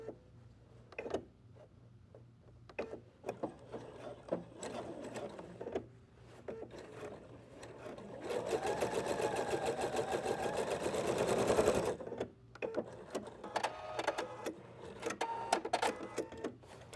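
A sewing machine stitches around the corner of a pillow, a dense steady run of rapid needle strokes for several seconds amid quieter handling clicks and fabric rustles before and after.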